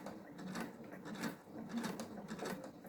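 Sewing machine running back over the same seam while making a clutch bag, a faint, rhythmic mechanical chatter that pulses unevenly in short bursts.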